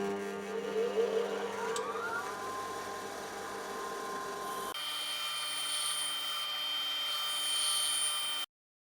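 A small grinder cuts a flat spot onto a 3D-printer extruder drive bolt, a steady high whine with shifting pitch that drops to a thinner, sustained tone midway and stops abruptly at the end.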